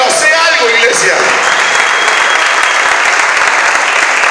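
Loud, steady applause from a large church congregation during a sermon fills the whole stretch, with a voice briefly heard over the clapping at the start.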